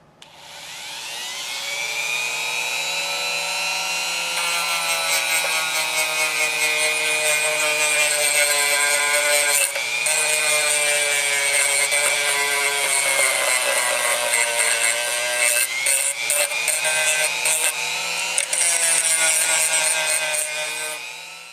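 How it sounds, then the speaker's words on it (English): Wire wheel on a power tool grinding rust from the nooks of the frame collars on a Suzuki GS550 motorcycle frame, a loud, steady high-pitched whine that runs continuously for about twenty seconds with slight pitch dips. "I'm going to just try the wire wheel to get in there as best I can"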